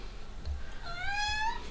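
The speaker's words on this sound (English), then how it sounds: "Meow." A cat meows once, a clear rising and falling call that is fairly close and stands alone over a faint room hum.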